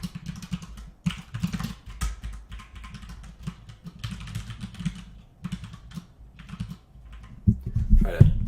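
Rapid clicking of keys on a computer keyboard continues for several seconds, close and uneven in rhythm, with a few louder thumps near the end.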